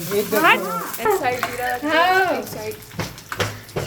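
Curry leaves hiss and sizzle in hot oil for a sambar tempering under a voice talking close by, with the frying crackle filling the pauses.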